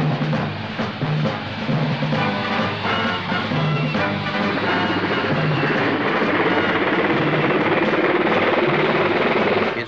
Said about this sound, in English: the largest helicopter in the world.